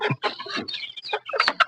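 Native chickens cluck in a quick, brief series of close, choppy calls.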